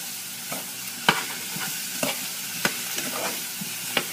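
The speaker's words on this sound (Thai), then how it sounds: "ต่อไปเราก็ใส่เลยค่ะมะเขือเปราะนะคะ นี่ค่ะ โอเคก็ผัดไปค่ะ" Thai eggplant stir-fried in a pan makes a constant close sizzle, with a sharp scrape or tap from the spatula roughly every half second to second.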